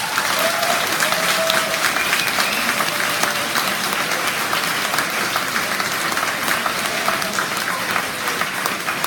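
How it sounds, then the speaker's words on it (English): Graduation awards ceremony audience gives a steady, full round of applause, dense clapping from many people throughout with faint voices mixed in. "Let's give them a big round of applause."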